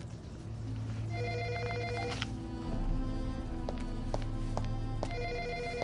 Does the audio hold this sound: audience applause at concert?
no